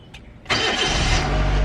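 A car engine cranks and catches, jumping from a quiet interior hum into a loud, steady running roar that holds close and even.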